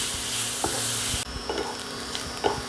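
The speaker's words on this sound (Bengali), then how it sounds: "গাজরটা একটু ভাজা ভাজা হয়েছে" Chopped carrots fry in a pan, a sizzling hiss broken by a few scraping stirs of a spoon, close and with no one talking.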